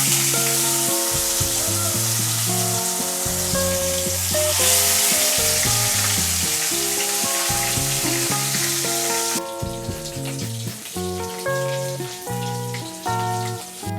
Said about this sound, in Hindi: अभी मैं मच्छी फ्राई कर रहा हूँ